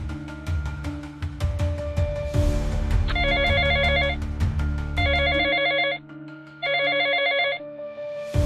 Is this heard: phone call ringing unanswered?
yes